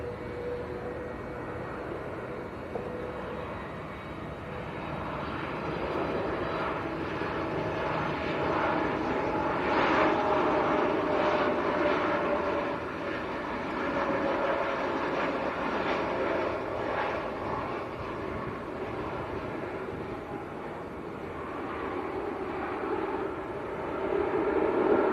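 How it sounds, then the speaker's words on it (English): A Ryanair jet arriving from Lanzarote roars on short final at Manchester Airport, a steady, broad engine drone heard from a distance that swells gently and holds for the whole stretch, with no voices. "another one just about to land actually, Ryanair from Lanzarote on the short finals"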